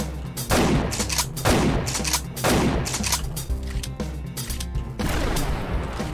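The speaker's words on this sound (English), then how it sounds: "He's shooting a rocket at a wall, I guess." Rocket and gunfire in the shooter game Voltage, loud repeated blasts and booming impacts in quick succession over a dense rumbling bed, with no voices.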